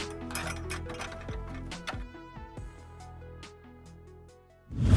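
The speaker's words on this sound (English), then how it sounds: "all I'm gonna do is just connect the two screws to the slot on the back" Small screws are driven into the rear slot of a budget gaming PC case, giving close metallic clicks, ratcheting ticks and clinks in an irregular run, ending with a louder rustle.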